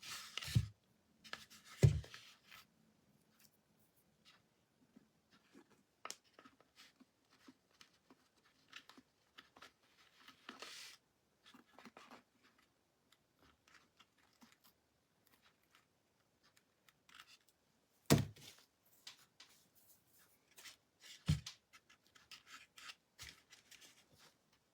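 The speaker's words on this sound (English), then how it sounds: "I'm just taking my little fussy cutting scissors and just cutting out that" Small fussy cutting scissors snip and rub through paper for a decoupage birdhouse, a sparse run of quiet close-up snips and scrapes with a few sharper clicks, in a near-silent room with no talking.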